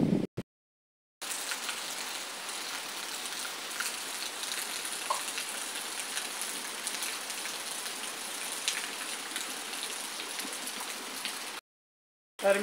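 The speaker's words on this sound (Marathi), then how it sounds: "तुम्ही पाहू शकता आपल्याकडे किती पाऊस होते, भरभरून पाऊस पडतोय" Heavy rain pouring down in a dense, even roar of drops that runs loud and unbroken for about ten seconds, with brief silent gaps at the start and end.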